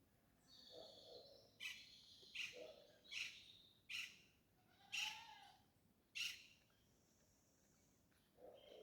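Tropical birds chirp in the Jamaican hills the morning after Hurricane Beryl, sounding as a series of sharp, bright calls about every second, moderately close and clear over a quiet background, with no talk.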